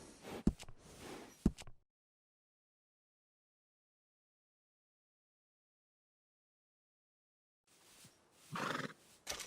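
A horse in Red Dead Redemption 2 whinnies and snorts at a stable in two bursts, one at the start and one near the end, separated by several seconds of complete silence.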